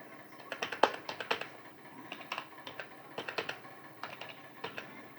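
Light, quick clicking of a computer keyboard while typing text into MS Word, coming in irregular bursts of taps with short pauses, close and fairly quiet, with no speech.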